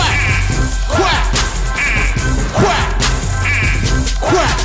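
Voices imitate duck quacking, giving loud, close nasal quacks in a steady rhythm of roughly one per second over a constant background hum.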